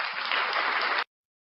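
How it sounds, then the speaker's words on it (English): A short, dense burst of audience applause lasts about a second, steady and close, then cuts off abruptly into silence. "Round of applause for you guys."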